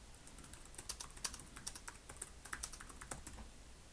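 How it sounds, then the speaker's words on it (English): Typing on a computer keyboard, with quick, quiet, close key clicks in an uneven but continuous rhythm and no other sound. "And now we can just type whatever."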